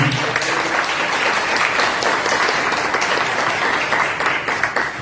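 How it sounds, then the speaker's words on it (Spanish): Congregation applauding in church, a loud, sustained burst of many hands clapping together, close and full, tapering slightly near the end. "Un aplauso al Señor, un aplauso al Señor."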